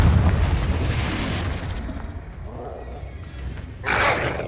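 A Confringo spell explosion from Hogwarts Legacy opens with a heavy low boom that rolls off into a rumbling decay, then a fresh bright crackling burst hits near the end.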